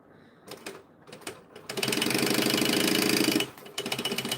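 A sewing machine runs a chain stitch in short bursts, then a sustained fast stretch of rapid needle clatter lasting about two seconds, followed by another short run, up close with no talking.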